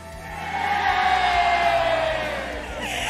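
A large crowd at a Mobile Legends esports league match roars and cheers in a sustained swell, loudest in the middle before easing slightly.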